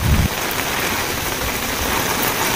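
Steady morning rain in Thalassery, a dense even hiss of falling drops close by, continuous and fairly loud with no voices.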